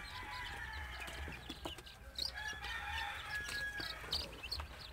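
Young chickens peep and cheep continuously in a busy, fairly faint chorus during Newcastle disease vaccination, with occasional clucks and small handling clatters and no talk.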